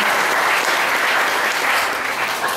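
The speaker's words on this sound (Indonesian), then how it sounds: "Tepuk tangan" A group in a meditation class claps hands together in a steady, dense burst of applause, close and loud, with no talking over it.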